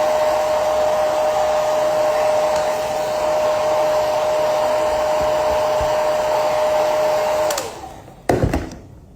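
A hair dryer blowing steadily at close range to speed up drying, a loud even whir with a constant high whine for about seven seconds before it switches off and winds down, followed by a few handling knocks.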